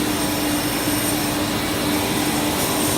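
Large dry cooler fans running for free cooling at a plastics manufacturing plant, giving a steady, loud broadband roar with a faint constant hum and no pauses.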